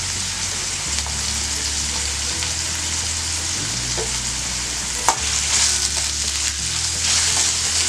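Salted onions for a spleen masala sauté in a pan, with a loud continuous sizzle and hiss, a low hum beneath and an occasional spatula clink, no voices.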